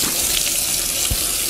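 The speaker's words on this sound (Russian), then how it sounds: "наношу на лицо, немного тру и смываю" Tap water runs steadily into a sink while the face is rinsed after cleansing oil, a close, continuous rushing gush with no talk.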